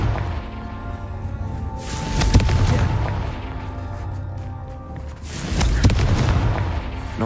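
Fiery Confringo spell blasts go off in the Hogwarts Legacy video game, two loud booming explosions a few seconds apart, each swelling and rumbling before fading.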